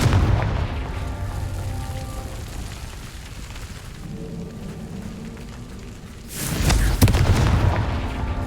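A Confringo blasting spell from the Hogwarts Legacy video game detonates with a loud, sudden boom that breaks over a low, rumbling backdrop of game ambience and then rings out briefly.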